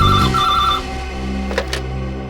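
A telephone rings indoors late at night in a bell-like pattern, with a couple of sharp clicks or knocks following as the ringing fades into a low room background.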